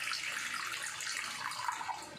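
Water runs steadily from a tap for a couple of seconds, a continuous close hiss and splash, part of a money ritual demonstration.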